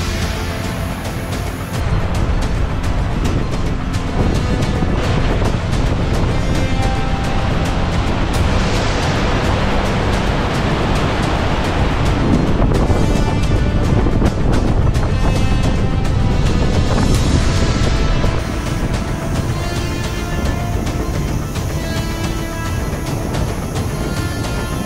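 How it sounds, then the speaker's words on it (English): Hengifoss, a 120-metre waterfall in an Icelandic gorge, gives a steady, loud broadband roar of falling water that holds without pause throughout, with some wind buffeting mixed in. "standing at 120 metres tall, is the third highest waterfall in Iceland"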